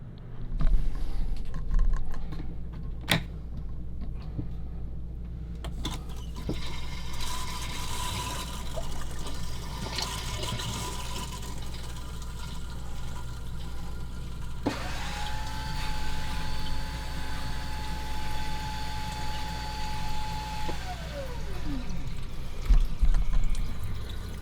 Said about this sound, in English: I'm going to go ahead and turn the water pump on, give this thing a couple flushes, and see how it's working.